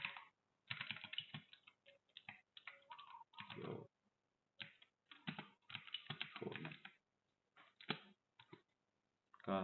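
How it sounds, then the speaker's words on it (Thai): Typing on a computer keyboard up close: quick clusters of crisp key taps in irregular bursts, separated by short silent pauses, with no one speaking. "ให้พิมพ์คำว่า Visual Studio Code ครับ"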